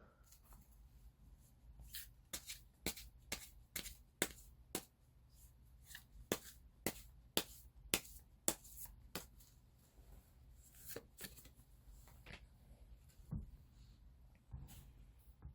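Soft, close shuffling of a tarot deck in a quiet room: repeated sharp card slaps and riffles at an irregular pace, fading into lighter handling toward the end.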